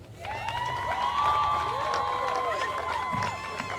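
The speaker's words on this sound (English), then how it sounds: "if I get a round of applause for them" A crowd at an outdoor parade for a championship high school football team cheers and claps, with shouting voices and whoops layered over the applause and a loud rising swell in the middle.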